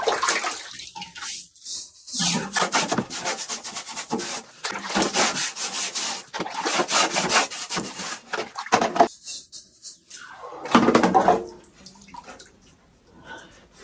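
Water splashing and rinsing over a rusty Chevrolet C-10 part after an Evapo-Rust soak, a continuous wet scrubbing wash with brief pauses, close and fairly loud.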